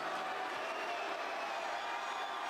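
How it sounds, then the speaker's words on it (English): A large crowd at a WWE SmackDown wrestling arena gives off a dense, continuous roar that mixes booing and cheering, heard as a distant, steady wash of noise. "I think he's getting booed. They really still booing him? Or some cheer."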